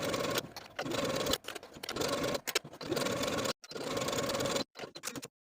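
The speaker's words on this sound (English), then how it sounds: "Sew your sleeve to the bodice with a 3/8 inch seam allowance and finish the seams if you prefer." A sewing machine sews a sleeve onto a jumpsuit bodice with a 3/8 inch seam allowance. It runs in several fast, loud, close bursts with brief stops between them, and the clip ends quietly.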